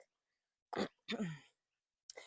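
Two short, raspy throat-clearing coughs in close succession, then a third brief one after a pause; close and fairly loud, with no speech.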